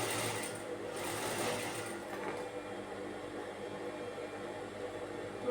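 A sewing machine runs steadily while stitching a princess nighty, with a continuous close whirring hum that holds an even level throughout and no talking.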